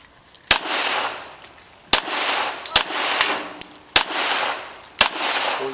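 Pistol shots at a practical shooting practice session, six or so sharp, loud reports spaced about a second apart, each trailed by a roaring echo, with faint metallic clinks between.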